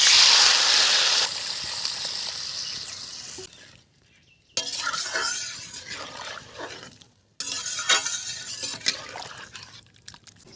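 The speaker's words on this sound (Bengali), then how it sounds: "এবার আমি জল দিয়ে দিচ্ছি" Water poured into a pan of fried cumin, ginger and spices for a fish and papaya curry, giving a loud hissing sizzle that fades, broken by clinks and stirring bursts.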